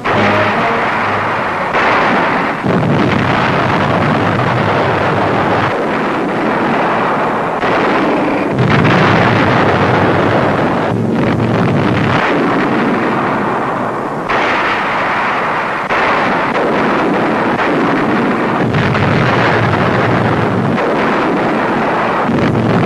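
Artillery fire in the mountains of southern Italy in 1944, on the road to Cassino: heavy booms recur over a continuous roaring, wind-like rumble, loud and distant-sounding, with no voices.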